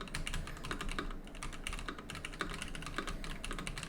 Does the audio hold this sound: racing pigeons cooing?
no